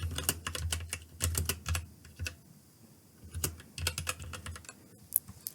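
Rapid bursts of keystrokes on a computer keyboard while entering text, clicking in irregular clusters with short pauses, close and moderately loud with no talking.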